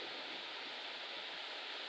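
Steady broadband rush of a waterfall, the Cascata dei Papalini near Crespadoro in the western Lessinia hills, heard up close along a footpath leading behind the falling water; a continuous, even roar with no voices.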